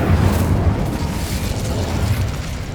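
A fire spell blast in the video game Hogwarts Legacy, a loud sustained whooshing roar with deep rumbling body that holds steady for nearly three seconds without talk.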